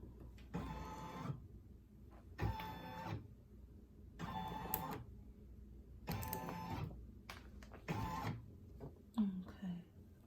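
A Meridian embroidery machine stitching on a hat runs in five regular bursts of about a second each. Each burst is a rapid mechanical whirr and clatter, with quiet pauses between them and faint voices in the background.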